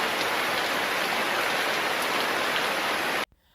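Steady heavy rain falling in Mataró during a Sant Jordi giants gathering, a dense loud hiss that continues evenly and then cuts off abruptly near the end.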